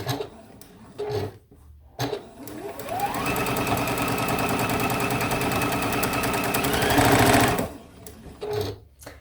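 Sewing machine stitching quilt fabric for a sew-along block, one sustained fast run of about five seconds that ramps up and stops, loud and close, with brief quiet handling sounds before and after.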